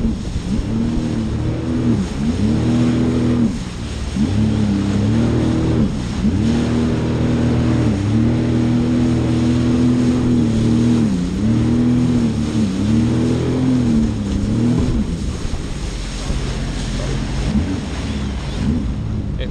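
Jet ski engines run steadily at sea off Costa Adeje, Tenerife, with a loud continuous drone that rises and dips in pitch as the craft rev and ease, mixed with wind buffeting and water noise and no talk.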